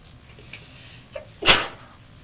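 A single sharp sneeze bursts out close by in a quiet room, preceded by a faint intake of breath.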